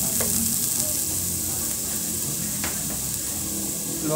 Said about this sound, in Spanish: Le vamos a poner la cebolla, el ajo y el chile verde.